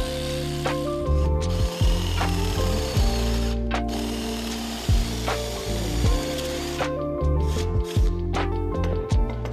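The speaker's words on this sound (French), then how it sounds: "Pour le grand marteau, on tire à travers l'ouverture avec une scie sauteuse." Jigsaw cutting through an opening in a wall panel, giving loud, steady buzzing runs that stop and restart several times, with short mechanical clicks between the bursts and no talking.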